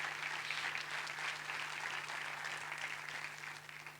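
A church congregation applauds steadily throughout, a dense, even wash of clapping heard at moderate distance with a faint electrical hum beneath it and no voices on top.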